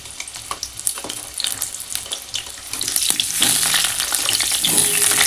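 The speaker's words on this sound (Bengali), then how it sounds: "তো আলুগুলো ভালো করে ভেজে নিই।" Potatoes fry in hot mustard oil in a kadai, giving a loud, dense sizzle with crackling and stirring scrapes that grows stronger toward the end.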